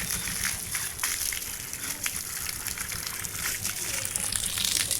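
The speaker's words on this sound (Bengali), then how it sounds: "লিজা এখন স্নান করছে" Water gushes and sloshes steadily as a pet is bathed, with continuous splashing and running water close by. A faint voice can be heard in the background.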